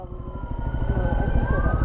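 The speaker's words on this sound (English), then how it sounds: "Where are those sirens?" Police sirens wailing nearby in street traffic, heard from a mini moto ride: a loud, continuous rising and falling siren tone over a rumbling engine, with no talking.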